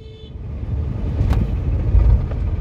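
A car in first gear lurching as a learner driver drops the clutch abruptly, heard from inside as a loud, close, low engine and road rumble that swells unevenly and peaks before easing slightly.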